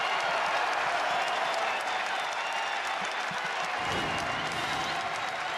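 A basketball arena crowd at a Pitt Panthers at Providence Friars college game applauds a play. Dense, steady clapping and cheering fill the whole clip. A faint murmur of voices rises near the end.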